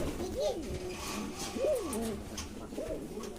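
Several pigeons coo in slow, repeated bubbling phrases, three clear rolling calls close by, newly bought birds from a rural market kept in a home loft, with a steady murmur of background noise underneath.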